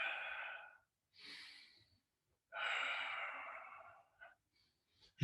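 Slow, audible breaths during a Pilates exercise: a long exhale, a shorter breath, then another long sustained exhale, close and quiet in a calm room, followed by a few brief faint sounds.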